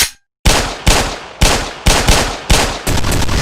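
Gunfire in a shootout with police: a burst of about six loud, sharp shots at a steady spaced rhythm, each cracking sharply and then ringing out, heard alone without talk.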